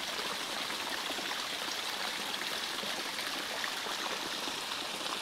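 A small stream runs continuously in Buskett Woodlands, Malta, a soft, even babbling and trickling hiss heard alone at close range.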